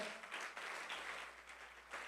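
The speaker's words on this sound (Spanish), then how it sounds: "Yo le daría un fuerte aplauso al Señor." A church congregation gives a brief round of applause during a sermon, faint and distant, a soft continuous patter of hands with no voices over it.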